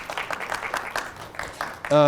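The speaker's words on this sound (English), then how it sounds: "A round of applause for our volunteers." Scattered, light audience clapping for volunteers at an academic thesis-presentation workshop, individual claps audible as separate bursts rather than a full ovation, ending with a short vocal sound.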